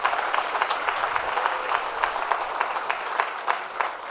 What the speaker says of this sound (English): Another round of applause for Dr. Moyad.